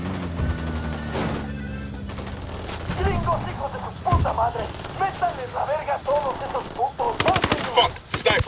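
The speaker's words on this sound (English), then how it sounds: "Fire, fire, fire." Rapid gunfire bursts and single shots crackle through a video game firefight, with voices shouting over the shooting and louder volleys near the end.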